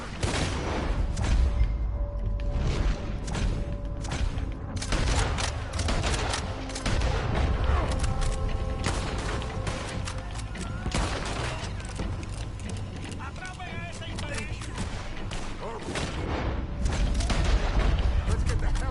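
A dense, loud Red Dead Redemption 2 shootout with continuous overlapping gunfire and booms under constant game noise and voices.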